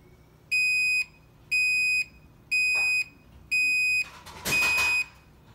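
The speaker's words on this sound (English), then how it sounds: "The beeps eventually stop." A Deebot M80 robot vacuum that won't charge gives five evenly spaced electronic beeps at a steady rhythm, each about half a second long, clear and close, with a brief rustle near the end.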